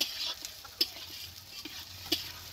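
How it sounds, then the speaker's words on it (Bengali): Chopped onions frying in hot mustard oil in a kadai give off a faint, quiet sizzle, broken by a few sharp clicks of stirring. "পেঁয়াজটাকে এখন ভেজে নেব।"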